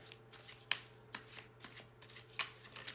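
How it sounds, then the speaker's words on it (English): A deck of tarot cards being shuffled close by, with crisp riffling bursts and soft card slaps at irregular intervals over quiet background hum, no talking. "Let's give this another shuffle. Yeah, these cards are all over."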